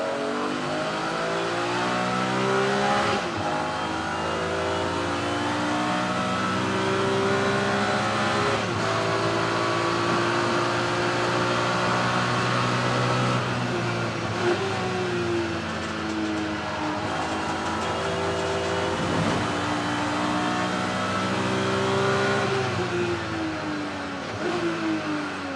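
A BMW race car in the Kumho BMW Championship at Snetterton circuit drives through a corner, its engine droning loudly and steadily, with revs rising and falling through gear changes and no talk.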